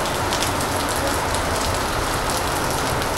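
Heavy monsoon rain pours down steadily in the Konkan region, a dense, even hiss of water drumming on surfaces that stays close and loud for the whole stretch, with no voices over it.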